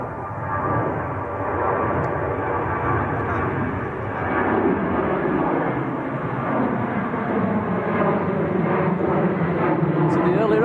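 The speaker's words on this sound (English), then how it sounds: "Ryanair on the go-around" A Ryanair jet going around at Manchester Airport gives a sustained, building engine roar on a windy day, loud and continuous and growing slightly toward the end.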